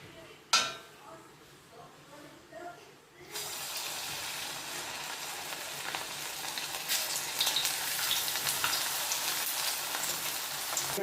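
Idli batter snack with chopped add-ins dropped into hot oil, a sharp splash followed by a loud, steady hiss of deep-frying that builds and holds for several seconds, with a few soft clinks and speech early on.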